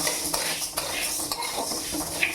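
Moong dal roasts over low heat in a pan as a spoon stirs it steadily, a dense continuous scraping rustle with occasional light clinks.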